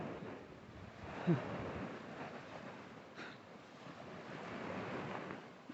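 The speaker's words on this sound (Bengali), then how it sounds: "জলে ঢেউয়ের গর্জন" Waves wash against the shore of Pangong Lake in Ladakh, high in the mountains. A steady broad rush of surf carries on throughout at a distance, mixed with wind buffeting the microphone, with no voices.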